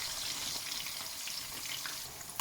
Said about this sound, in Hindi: ऑयल गर्म हो गया है तो अब मैं इसके अंदर करेले रखूँगी फ्राई करने के लिए